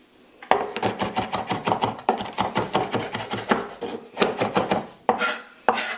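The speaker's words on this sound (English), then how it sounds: "all we're doing is giving everything a nice fine chop" A knife chops fresh thyme and vegetables finely on a board for Caribbean oven roasted chicken, with fast, even, close taps in steady bursts and brief pauses between runs.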